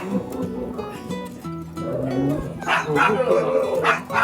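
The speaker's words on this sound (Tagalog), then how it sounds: "Anong aso yan mo, tatay? Anong aso yun yung aso?" A dog barks and whimpers nearby in short yips, mixed with some background voices and noise.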